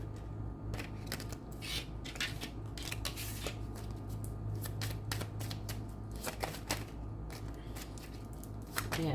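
Tarot cards being shuffled and drawn by hand for a Cancer reading, a steady run of soft papery riffles and flicks at close range, with no talk, over a low constant hum.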